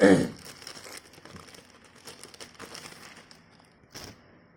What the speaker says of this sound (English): let's get this tape open